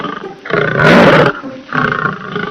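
A cartoon lion roars during a fight with a wolf, two loud, close, sustained roars, the first longer and fuller, the second shorter, with no talking.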